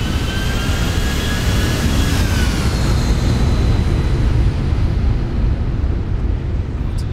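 Simulated Boeing 737 jet engines throttling up for a flyover in the Zibo 737 mod for X-Plane 11: a loud, continuous jet roar with a whine that rises and then fades into a broad steady rumble.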